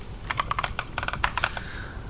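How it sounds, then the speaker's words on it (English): Quick, crisp typing on a computer keyboard, a close, clear run of key clicks in an uneven rhythm with no talking. "The keyboard sounds good."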